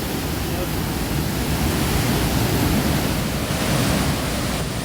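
Large, powerful flow of water rushing in a dense, continuous roar, loud and close without letting up, with a voice briefly audible over it.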